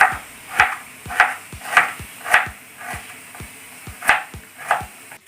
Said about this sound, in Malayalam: അത് നന്നായി കനം കുറച്ച് നമ്മൾ അരിയണം